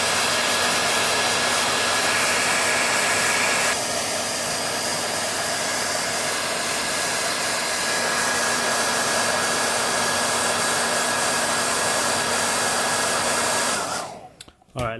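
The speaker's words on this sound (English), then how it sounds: "Put it on full power, full heat, and we'll just warm that chip right up" Hot air rework tool running at full power and full heat, warming a chip on an LG TV board, giving a steady, loud, continuous blowing hiss with a fixed whine that cuts off abruptly near the end.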